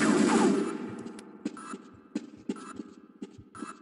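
Shotgun fire in the video game Half-Life: an initial loud blast followed by several sharp, punchy reports spaced irregularly, close and prominent.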